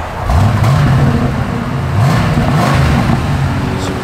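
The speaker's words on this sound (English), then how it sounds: "Give it a little rev." A 1984 Ford Mustang GT hatchback engine revs loud and close, with two throttle blips swelling and falling over a steady idle rumble, no talking.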